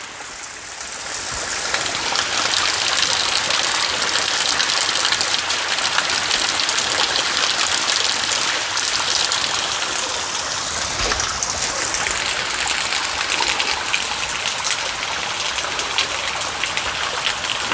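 Water gushes steadily and loudly during an outdoor bath in a forest setting, a continuous splashing rush with no voices heard.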